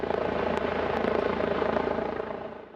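A Northwest MedStar critical care medical helicopter roars as it lands on a high school football field, its rotor thudding in a rapid steady pulse with broad engine noise, loud and close, fading slightly at the end.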